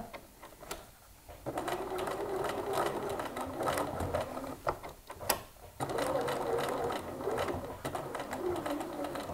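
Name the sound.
sewing machine stitching front pockets of jeans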